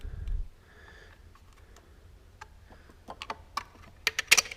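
A cast-iron engine cylinder stuck to its base gasket is tapped loose with a run of quick, light, sharp knocks that come closer together and louder toward the end, after a soft low thump at the start.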